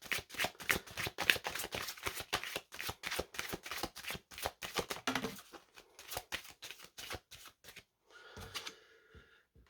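Tarot cards are shuffled in rapid, crisp riffling bursts during a reading, then a few slower slides and a card drawn and laid down near the end, close and fairly quiet.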